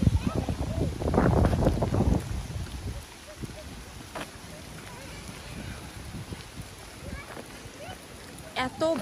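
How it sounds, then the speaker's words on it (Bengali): Strong autumn wind sweeps through Victoria Park in London, buffeting the microphone with a steady rushing roar. A voice briefly rises over it near the start. "এত বাতাস যা বলার বাহিরে, মনে হয় যে উড়ে নিয়ে চলে যাইব।"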